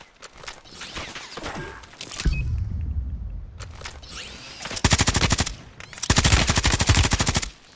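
Video game gunfire: scattered shots early on, then two long, loud bursts of rapid automatic fire near the end, with engine-like rumble between them.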